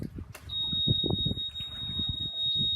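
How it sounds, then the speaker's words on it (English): A pontoon boat's ignition sounds a steady high-pitched electronic beep continuously from early on, with low rumbling and murmuring voices underneath throughout. "You get a beep."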